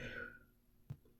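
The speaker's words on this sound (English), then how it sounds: "Excuse me, that was a burp." A single short, low burp from a person, near and fairly quiet, following a brief fading voice-like sound.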